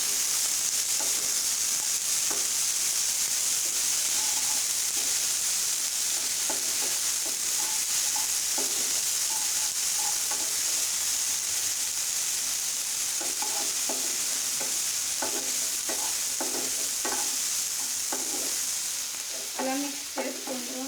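Green chillies frying in a pan while being stirred, a steady loud sizzle running throughout with repeated scraping strokes of the spoon on top, heard up close with no voices.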